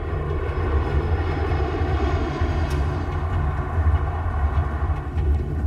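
A passenger airliner in flight gives a steady, loud engine drone, a continuous low roar with a faint whine on top that holds evenly throughout with no voices.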